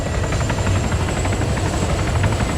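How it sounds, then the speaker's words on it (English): A helicopter in the military video game Arma 3 drones steadily with a rapid rotor chop, loud and close, continuous throughout with no talk. "We'll just keep an eye on this helicopter for a minute."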